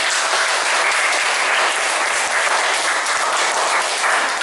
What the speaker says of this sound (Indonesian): Tepuk tangan untuk Anda sekalian